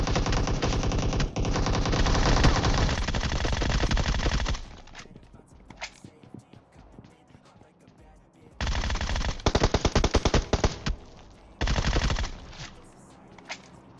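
Gunfire from AWM and Groza guns in the PUBG Mobile video game: long loud automatic bursts at the start and again later, with a quieter stretch of scattered sounds between them.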